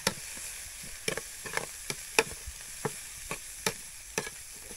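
Vegetables sizzle steadily over low heat in a pan on an electric cooker while a utensil scrapes and clicks against it in irregular strokes, close by, with no talking.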